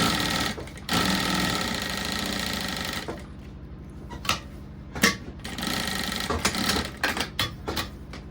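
A sewing machine runs a safety stitch along a fabric pencil case, first in a long continuous loud whir, then in short stop-start bursts with pauses between.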